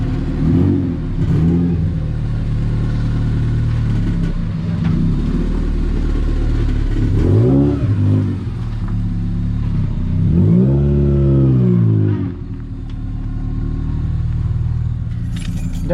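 A Honda EF hatchback engine hums and rumbles while driving, rising in pitch through several revs and gear changes, loud and close, with no voices.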